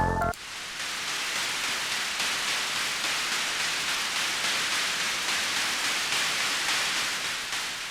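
A white noise percussion rhythm in an indie remix, driven by a Moog DFAM: hissing, cymbal-like bursts pulse steadily at an even eighth-note pace, loud and continuous, following a brief tonal sound at the start.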